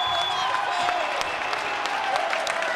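Football fans in the stands applaud and cheer after Calcio Padova's futsal win in the Coppa Italia. The crowd noise is a dense, steady wash with scattered louder claps and a faint whistling tone above it, and no distinct voices.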